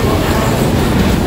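A Taoyuan Airport MRT line train rumbles steadily at close range, a continuous loud rolling roar of carriages on rails with no voices on top.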